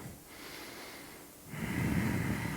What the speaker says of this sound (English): Just 2 more breaths.